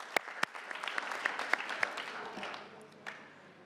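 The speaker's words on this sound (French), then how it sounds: "Mr. Donwahi, avec mes applaudissements" A conference audience at COP27 in Egypt applauds during the drought resilience alliance launch. The clapping is moderate and somewhat distant, with a few sharp individual claps standing out, and it fades away within a few seconds.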